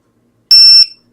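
A ViFly Finder drone locator alarm lets out a single loud, piercing electronic beep tone lasting about a third of a second, then cuts off with a brief tail, surrounded by silence.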